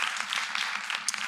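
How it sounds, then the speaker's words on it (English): Audience at a student presentation event applauding after a talk, a brief spell of scattered, moderately quiet clapping from a room full of people. "Let's give them a round of applause."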